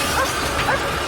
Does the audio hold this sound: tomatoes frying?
no